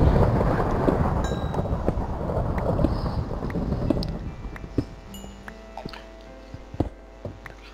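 Deep rolling thunder from a Minecraft storm rumbles loudly at first, then fades into scattered faint crackles and pops.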